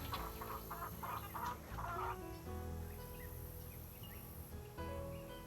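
Chickens in the Nancy Drew Secret of Shadow Ranch game cluck and squawk in a quick burst of short calls, then settle into quieter scattered clucks over a low steady background hum, all fairly faint.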